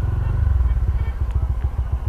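Stock Honda GTR 150 FI motorcycle engine revving against its limiter, a loud close drone broken into rapid rhythmic pulses as the rev cut bounces repeatedly.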